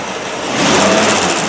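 A six-cylinder engine in a 1969 Land Rover Series 2a catches and settles into a steady, busy idle, loud and close, its pitch rising slightly as it starts.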